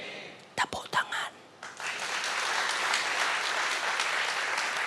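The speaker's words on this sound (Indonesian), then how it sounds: "Tepuk tangan." Church congregation bursting into applause after a sermon line, a few scattered early claps quickly swelling into sustained, dense clapping that fills the room and holds steady at full volume.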